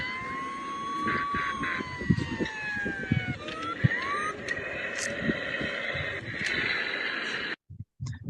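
A toy siren powered by a galvanic cell wails with rising and falling electronic tones over a busy, noisy background with knocks and clatter, ending in brief silence.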